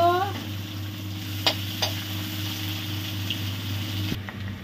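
Steady sizzling of radish frying in a pan, with a couple of sharp scraping knocks as it is stirred; continuous and fairly close.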